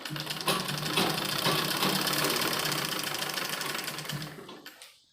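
A sewing machine stitches gents underwear fabric in a rapid, even mechanical chatter that runs steadily close up, then slows and stops near the end.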